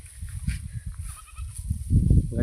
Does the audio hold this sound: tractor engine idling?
no